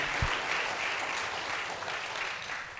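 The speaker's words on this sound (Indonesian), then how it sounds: "Kita beri tepuk tangan dulu yang paling meriah buat Tuhan kita yang ajaib, luar biasa." Fairly soft, steady applause from a church congregation during a worship service, a continuous wash of clapping with no voices over it.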